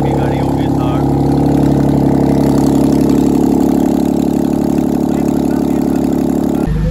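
Toyota Mark II car engine running at a steady, loud idle, with a throttle body issue, before cutting off abruptly at the end; someone talks over the engine.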